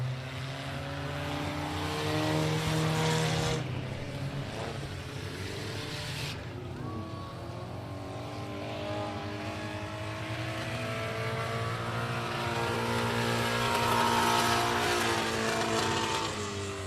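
Winged modified race cars roar around the Big O Speedway oval, engine notes rising and falling as the pack passes, loud and continuous with a distant crowd-like wash and no talk.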